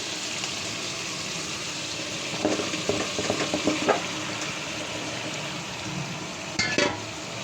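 Chicken curry with bottle gourd and aubergine sizzles in a pan, and a spoon scrapes and knocks in a burst of stirring strokes midway, then a clatter near the end. The sizzle stays close and steady with no voices.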